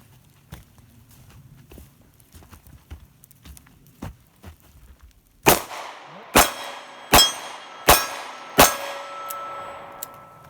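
Five loud, sharp shots from a Smith & Wesson Model 649 revolver crack out in an evenly spaced string, each ringing briefly, after several seconds of quiet with faint scuffing steps.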